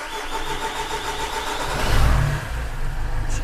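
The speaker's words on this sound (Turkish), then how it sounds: "Aracı bir marş basın." A Mercedes 190 W201 fitted with a swapped OM611 diesel engine cranks and fires. The starter churns, then there is a low surge as it catches around the middle. It settles into a steady, close diesel idle, with no talk.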